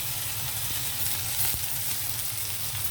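Crushed tender tamarind leaves sizzle steadily in hot oil in a pan, a close, dense frying hiss with faint stirring clinks, no talk.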